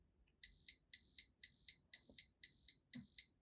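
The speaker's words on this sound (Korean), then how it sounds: "무조건 이렇게 종료음이 울려요" Six bright, high-pitched electronic beeps from a study timer's end-of-countdown alarm, in an even rhythm, each lasting about a quarter second, clear and close against near silence.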